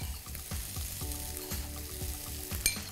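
Grated coconut goes into a sizzling chickpea and kale curry pan, a steady soft frying crackle with rhythmic stirring scrapes recurring about twice a second, close but quiet.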